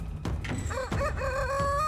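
Chicken clucking and crowing in a horror video game, a short burst of rising, wavering calls over steady game background noise, loud and close, no talk.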